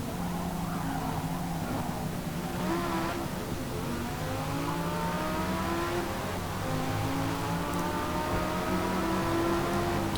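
A race car in Forza Motorsport 3, powered by an engine taken from a Lamborghini Gallardo supercar, revs and pulls through the gears, its rising and falling engine tones loud and continuous.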